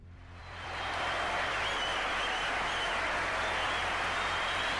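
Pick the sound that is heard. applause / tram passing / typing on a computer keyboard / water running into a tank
applause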